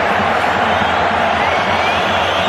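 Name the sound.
football stadium crowd cheering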